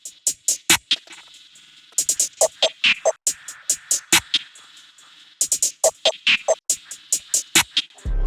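Hi-hat pattern processed through stacked Portal effect presets in a new-planet style trap beat, crisp bright ticks in quick rhythmic bursts with shimmering smeared tails, close and alone, with short gaps between phrases.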